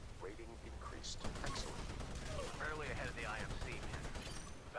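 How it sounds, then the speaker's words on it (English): Rapid gunfire and missile explosions in the Titanfall shooter game, a dense continuous volley of shots and blasts at moderate level, with a voice talking over the chaos. "Man, bullets flying everywhere."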